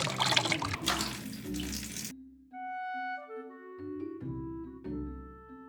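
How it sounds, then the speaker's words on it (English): Water runs from a tap for about two seconds, rinsing freshly dyed lining fabric, then stops abruptly and gives way to soft music. "I can free my fabric and rinse it in clear water"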